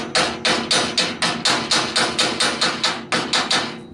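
Hammer chipping welding slag off freshly welded steel sides raised on a dump truck, about sixteen sharp metallic strikes in a fast even rhythm, close and loud with no talking.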